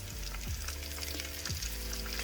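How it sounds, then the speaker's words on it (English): Busy crackling and sizzling of chicken pieces frying in hot oil, steady and close, with a few low thumps underneath. "Let them get to frying"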